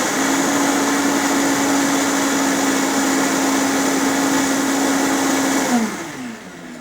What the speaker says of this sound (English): we're going to come over to the blender and blend this up